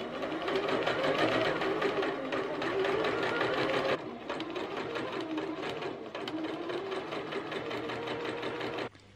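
A sewing machine runs steadily, stitching a basting line 5/8 inch from the bottom edge of a circle skirt hem using the seam guide, loud and continuous, with a brief shift in pace midway before stopping near the end.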